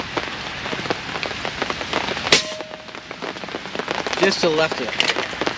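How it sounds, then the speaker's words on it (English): Hard, steady rain patters densely on surfaces outdoors, with a few sharper knocks and a brief spoken phrase over the constant downpour. "It's a pretty hard, steady rain."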